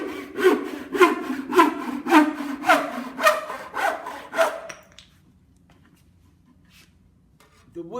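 A back saw cutting a piece of wood held in a miter box, loud close rhythmic strokes about eight times in quick succession, then stopping into near silence.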